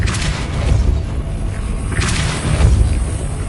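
A Depulso spell blast goes off in a magic-themed video game, a deep booming burst with a whooshing rush, loud and close, filling the short moment with rumbling low thuds.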